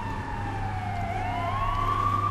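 A police siren in GTA III wails continuously with a gliding, wavering pitch over a steady engine hum, loud and close with no talk.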